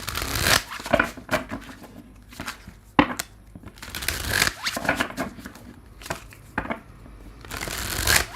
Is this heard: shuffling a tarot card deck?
yes